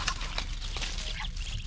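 Ducks calling near a white mother duck and her yellow ducklings on a village homestead, a few short quacks and bird calls standing out over steady low background noise.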